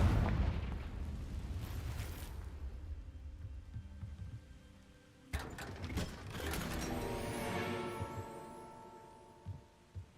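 A Confringo explosion spell cast in a magic-school video game, with rumbling blasts and mechanical clatter building over about ten seconds, a sharp burst near the middle followed by a long booming swell.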